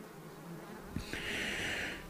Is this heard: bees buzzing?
yes